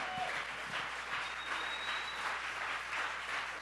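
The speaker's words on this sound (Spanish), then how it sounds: "Dele un aplauso de adoración al Señor" A dense, continuous wash of congregation applause fills a worship service, steady and fairly loud throughout, with no voices rising above it.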